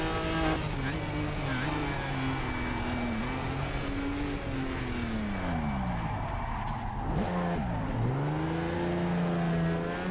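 A vintage Jaguar E-type race car in the Assetto Corsa video game drives at speed with a steady, loud engine drone. The engine pitch falls and rises through gear changes and braking, with no talking.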